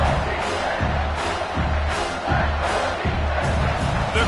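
A loud football stadium crowd roars and yells in a sustained wall of noise, cheering on the defense during a red-zone stand, with a few louder surges.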